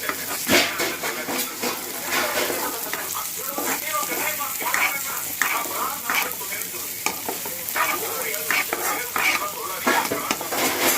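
Onions frying in oil with salt in a pan, a dense continuous sizzle with crackling bursts and occasional utensil scrapes, close and loud, without speech.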